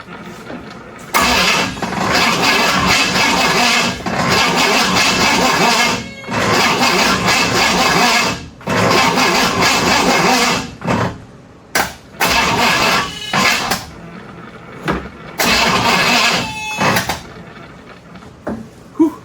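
A classic car's 455 big block engine cranks over and over in long, loud bursts with short pauses between them, never quite catching.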